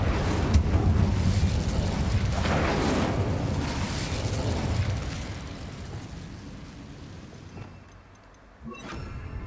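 Confringo and Incendio spells go off in Hogwarts Legacy as a few rumbling blasts and fiery bursts, loud at first then fading into quieter game ambience, with a short crackle near the end.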